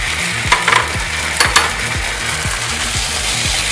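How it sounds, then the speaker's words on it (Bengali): Spice masala being fried and stirred for paneer satay, a steady close sizzle with repeated scraping strokes of a spoon against the pan at a regular rhythm, with no talking. "আবার একটু মশলাটা কষিয়ে নিচ্ছি।"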